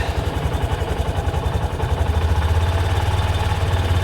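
A Honda CB125F motorcycle engine idles steadily and close by, a low, even pulsing thrum that grows slightly heavier and smoother midway through.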